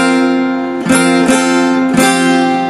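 An acoustic guitar with a capo strums a D-shape chord three times in a steady rhythm, the high first string ringing clear and bright between strokes. It is close and loud, with no talking.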